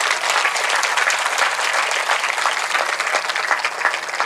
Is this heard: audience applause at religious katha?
yes